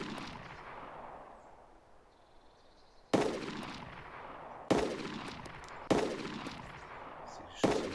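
Gunfire in the video game DayZ, on a map with an airstrip during player-versus-player combat: four sharp distant shots a second or so apart, each trailing off in a decaying echo over quiet ambience.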